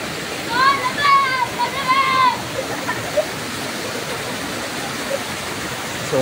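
Water flows steadily at Busay, a loud constant rushing wash like a waterfall or stream, with a person's voice briefly calling out over it early on.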